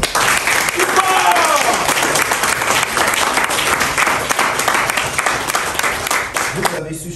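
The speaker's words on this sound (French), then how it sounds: "applaudissez pour vous-même." Sustained loud applause from a crowd at an investment company inauguration event, dense clapping filling the whole stretch with voices mixed in, fading slightly at the very end.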